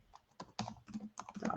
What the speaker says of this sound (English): I'm going to type it out really quick